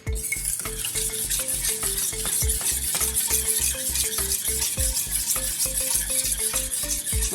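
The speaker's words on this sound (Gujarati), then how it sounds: "હવે આને આપણે બરાબર હલાવી લેવાનું છે, એકદમ એક રસ થઈ જાય એ રીતે" Plain unflavoured yogurt is stirred briskly for a mixed vegetable raita, giving a steady rhythmic run of spoon scrapes and clinks against the bowl, close and fairly loud, with no voices.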